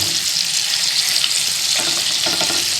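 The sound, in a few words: espada fish frying in a pan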